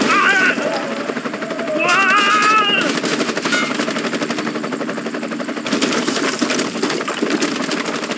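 Heavy gunfire in the video game Bright Memory Infinite: rapid, sustained automatic bursts rattle loudly and continuously with a mechanical whine, under a strained voice crying out in the middle of the fight.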